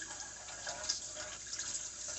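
Running tap water pours into a sink for rinsing raw chicken livers, a short, steady close-up splashing hiss with slight fluctuations as the stream moves over the meat.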